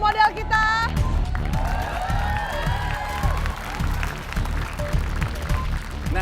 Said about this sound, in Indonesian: Boleh kita beri tepuk tangan untuk model kita?